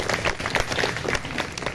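Children clapping together at a junior high school orientation, a dense, steady patter of many small hands that carries on evenly from start to finish.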